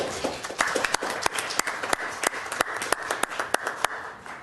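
A small group claps at a city parks and recreation commission meeting, with sharp, distinct claps sounding fairly close in a loose, uneven rhythm throughout.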